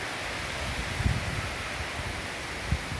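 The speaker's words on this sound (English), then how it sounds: "the wind started picking up again" Tropical Storm Megi's wind rushes steadily over Palompon, Leyte in the Philippines, a constant broad roar with a couple of brief gusts and rustles poking through.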